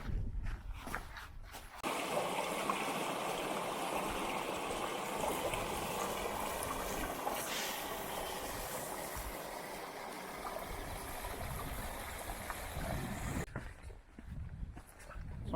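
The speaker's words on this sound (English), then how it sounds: "Nice little stream for water." A steady rush of flowing water from a small stream in the Scottish Borders hills fills most of the clip, a continuous close babble with faint footsteps near the start and end.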